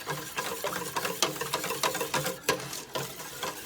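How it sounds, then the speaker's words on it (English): A whisk stirs a kombucha scoby into a soap mixture, giving quick rhythmic scraping and clicking strokes against the bowl, close and fairly quiet, with no voices. "I'm going to give it a quick whisk with my whisk"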